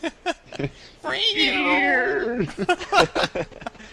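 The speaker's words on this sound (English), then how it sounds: "There's a cat on the train." A drawn-out cat meow, high and wavering, rises out of chatter and laughter, with voices talking before and after it.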